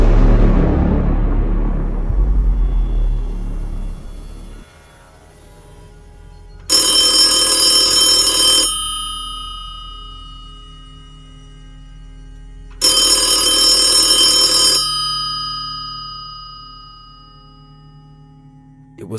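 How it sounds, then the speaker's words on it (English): An old telephone rings in a cafe in two loud, bright bursts of bell ringing, each about two seconds long and separated by a quiet pause, with no talking. "the silence was broken by the sound of an old telephone ringing in the cafe"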